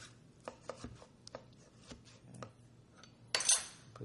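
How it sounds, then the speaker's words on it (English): A dulling knife dices food fairly small on a cutting board, giving a string of light, irregular taps followed by a brighter scrape near the end. "dicing it fairly small"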